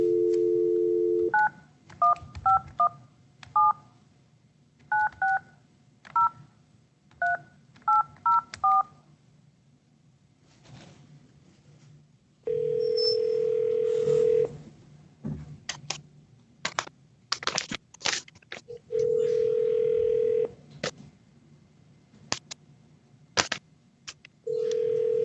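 Telephone touch-tone dialing beeps in quick bursts, with steady dial tones and recorded phone line audio in between and a few sharp clicks, close and clear with no talking.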